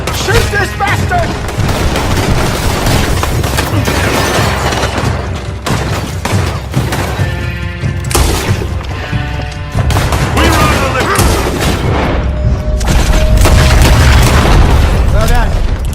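Heavy gunfire during a firefight in the video game Red Dead Redemption 2, with loud booming shots and rapid bursts packed close together while voices shout over the top.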